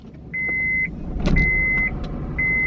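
Repeated electronic dashboard beeps sound over a low, steady vehicle rumble as a Honda Insight hybrid powers up, with a brief louder burst midway.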